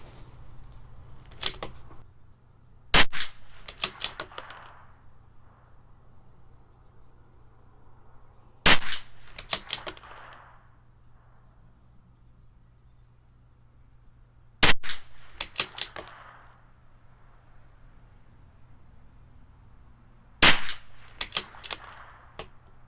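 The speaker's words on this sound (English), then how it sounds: "That's us shooting really well for the first 5-shot group." A CZ 457 LRP rifle with an IBI barrel fires Sellier & Bellot match ammunition at a range: four sharp, loud cracks spaced several seconds apart, each followed by clicking bolt work and a brief echoing tail.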